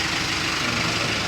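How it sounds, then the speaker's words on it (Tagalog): A 2023 Mitsubishi L300 engine idles right after a turbo replacement, a steady, close, rough mechanical hum with a faint hiss that holds unchanged through the short moment. "Umandar na yan. Pinalitan natin ng turbo."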